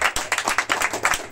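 A crowd at a lively church youth gathering in Yopougon claps in a quick, rhythmic pattern of sharp, close hand claps over a brief moment.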